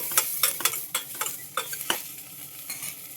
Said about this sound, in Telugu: అయితే ఒకసారి ఇలా కలుద్దాం